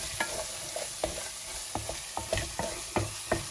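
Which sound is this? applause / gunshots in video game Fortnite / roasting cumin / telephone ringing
roasting cumin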